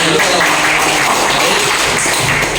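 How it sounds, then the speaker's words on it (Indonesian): An audience claps at a provincial sambo sports meeting, a loud, close wash of mixed clapping that continues steadily through the short stretch. "Iya, tepuk tangan."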